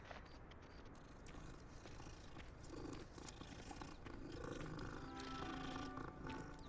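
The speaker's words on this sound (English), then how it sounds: "That's a loud purr." A deep, rumbling cat purr in Hogwarts Legacy rolls on continuously and loudly, swelling slightly toward the end, with faint game background sounds underneath.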